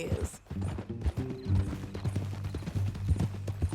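A horse's hooves clip-clop at a steady walking rhythm in Red Dead Redemption 2, close and clear, with brief voices and tack rattle around them.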